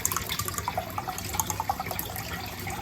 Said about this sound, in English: now I'm going to be pouring 2 more cans of evaporated milk into the mixture